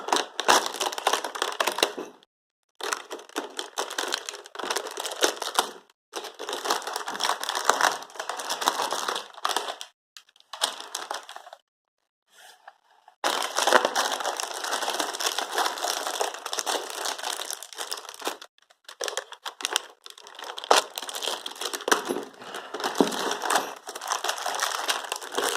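Motorcycle mirror packaging being handled and unwrapped, with continuous crinkling and crushing of wrap in bursts separated by short pauses, close and fairly loud.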